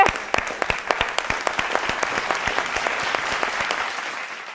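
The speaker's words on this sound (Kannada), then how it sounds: "ಬರಲಿ ಜೋರಾದ ಚಪ್ಪಾಳೆ." Loud applause from a studio audience at a televised singing competition finale, steady clapping with sharp individual claps standing out, gradually thinning toward the end.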